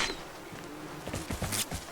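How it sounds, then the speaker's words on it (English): Buzzing bees swarming a player in the video game Vigor, a faint insect drone with a few brief louder bursts near the end, no talk. "I'm getting attacked by bees"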